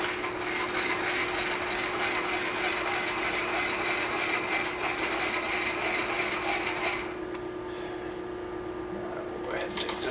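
A ratchet wrench clicks rapidly and steadily as it cranks a bolt down during a wagon upgrade, loud and close for about seven seconds, then stops, leaving a low hum and faint handling noises.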